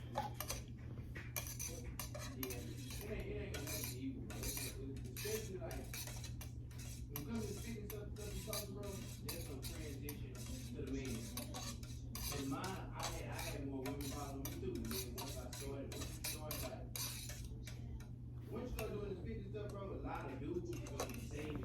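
Candle wax is stirred in a container with a utensil, giving rapid, irregular clinks and scrapes throughout, set against a steady low hum and faint background voices.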